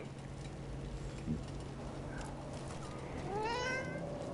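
A cat meows in the video game Dragon Age: The Veilguard, a single rising, wavering cry near the end over a steady background of game ambience and music.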